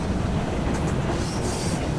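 A train runs steadily in Assassin's Creed Syndicate, a continuous rumbling roll with faint rail hiss and a brief higher squeal partway through, close and unbroken with no talking.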